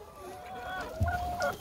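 Chickens cluck near the microphone on snowy, sleety ground, a few short throaty calls rising over a faint background.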